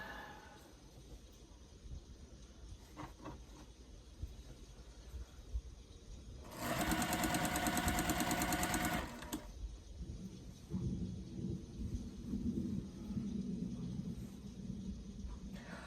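A home sewing machine runs in one loud, steady burst of about two seconds while its foot pedal is pressed during quilt piecing, with quieter handling noise before and after.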